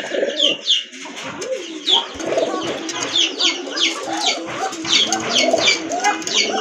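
Several large, colourful German shield pigeons coo repeatedly up close, overlapping throaty rolling calls that swell and fade in a steady rhythm, with faint chirps mixed in and no talking.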